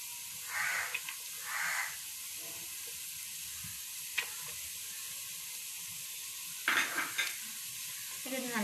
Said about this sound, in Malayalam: ഇത് നല്ലപോലെ ഒന്ന് സോട്ട് ചെയ്തെടുക്കാം